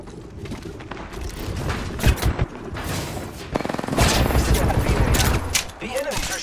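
Enemy gunfire rattles in rapid automatic bursts during an Apex Legends match, loud and close, mixed with shot impacts and other game effects.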